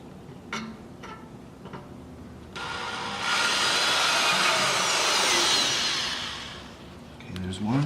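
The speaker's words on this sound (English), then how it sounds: "Go ahead and drill these out." A power drill bores holes for machine screws to mount a camera on the front of a Jeep Wrangler, a few short clicks and taps first, then a sustained loud whine that rises and fades away.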